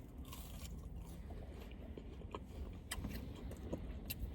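Faint, crisp crunches of someone biting into Chick-fil-A waffle fries, several quick bites over a low background rumble.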